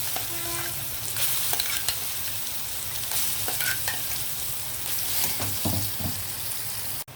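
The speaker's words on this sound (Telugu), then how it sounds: "ఓకే, వేగిపోయాయి కదా, పచ్చడి వేసేద్దాం." Mint chutney frying in a pan with a dense, continuous sizzle while a spoon scrapes and clatters against the metal at irregular intervals, close up, with no speech.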